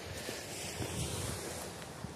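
Ocean waves wash on a shore in a continuous, fairly faint rush, mixed with wind buffeting the microphone and no distinct individual breakers.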